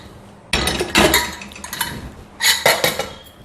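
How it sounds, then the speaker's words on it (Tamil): A pressure cooker handled in a kitchen before cooking sambar, heard as close, loud metallic clanks and clinks in two clusters with a short quieter pause between them. "நான் ஒரு குக்கர் எடுத்துட்டேங்க"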